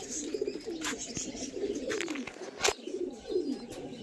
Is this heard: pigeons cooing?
yes